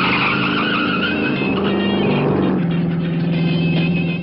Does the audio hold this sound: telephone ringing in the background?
no